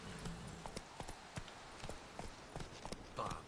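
Steady clip-clop of Roach the horse's hooves in The Witcher 3, a quick even gait of sharp hoof strikes over faint ambient background.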